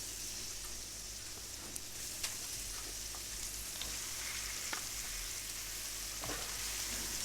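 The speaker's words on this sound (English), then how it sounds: "I'm just going to cook the carrots and the mushrooms at this point in time" Carrots and mushrooms fry in a pan for a vegetable and chicken stir fry, giving a soft, continuous sizzle with occasional small pops and crackles and no voices.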